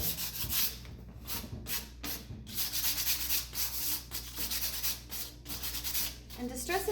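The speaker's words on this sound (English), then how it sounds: "now I'm going to go back over it with my sandpaper, just to stress it a little bit, just like it was on the edges" Sandpaper rubs back and forth over the edges of a chalk-painted wooden piece to distress it, a close, steady rasping in repeated strokes that carries on alone without talk.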